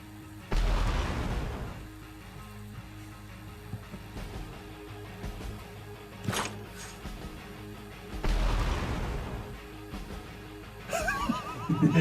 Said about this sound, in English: that explosion was way too big for this grenade